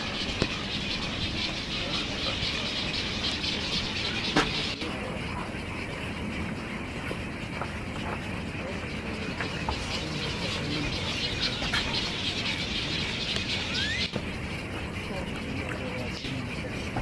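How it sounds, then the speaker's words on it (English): Many birds call and chirp continuously at Smith Oaks Bird Sanctuary, a dense outdoor chorus mixed with scattered sharper calls, with people talking over it. "Just amazing the number of birds that you have here."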